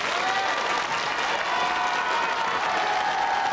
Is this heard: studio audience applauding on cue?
yes